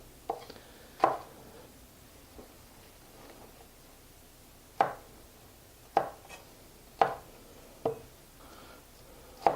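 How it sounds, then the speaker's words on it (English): A knife chops a pepper into simple rings on a cutting board, giving sharp, close, isolated thuds spaced irregularly, then a quicker run of cuts, in a quiet kitchen with no talking. "cut simple little rings"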